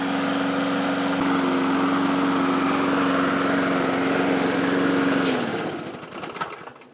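A Craftsman lawn mower engine runs with a steady, loud droning hum, then shuts down near the end and winds to a rattling stop.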